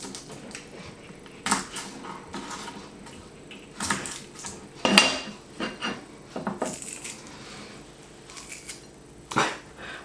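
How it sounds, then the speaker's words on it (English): Garlic cloves being peeled and pressed in an IKEA garlic crusher for chicken Kiev, heard as scattered close clicks, taps and metallic squeezes in an irregular rhythm, without speech. "I'm just going to peel and mince the garlic"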